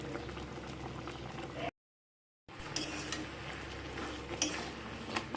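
Mango pickle simmers in a pan, bubbling steadily while a spoon stirs and scrapes through it close by, broken by a brief silent gap.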